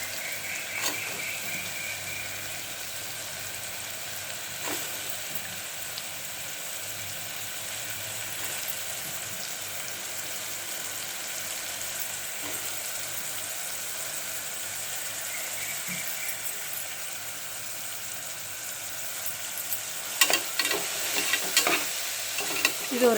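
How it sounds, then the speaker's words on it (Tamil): Soaked soy chunks (meal maker) being stirred with sautéed tomato in a pan, a steady low sizzle running throughout, with scraping spoon strokes growing more frequent near the end. "இது ஒரு 2 நிமிஷம் நல்லா கலந்து விட்டுட்டு"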